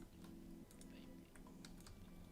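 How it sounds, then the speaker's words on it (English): Fast, loud typing on a computer keyboard picked up through a gamer's voice-chat microphone during a World of Warcraft raid, the keys clattering continuously for the whole stretch. "we can hear somebody's typing really loud"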